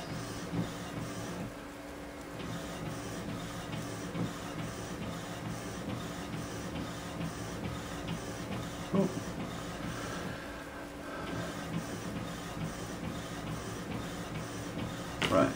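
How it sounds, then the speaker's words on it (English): A printer whirs and clatters steadily in the background, its mechanical rhythm continuing throughout with occasional soft clicks. "If you can hear something in the background, that's my printer."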